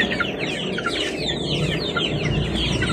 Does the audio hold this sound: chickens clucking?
yes